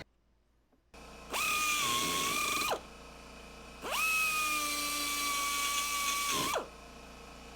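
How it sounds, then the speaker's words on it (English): A die grinder cuts into the steel sleeve of a control arm bushing on a Honda CRX lower arm, with two sustained high-pitched whining bursts, the second longer, close and loud, separated by a brief pause. "here I am using my die grinder"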